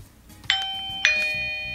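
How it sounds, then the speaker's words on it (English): Two bright electronic chime tones from a Eufy battery video doorbell button ring out in quick succession, the second one sustaining and fading, clear and close with no talking. "And the doorbell button sounds like this."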